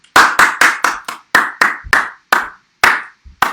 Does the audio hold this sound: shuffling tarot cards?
no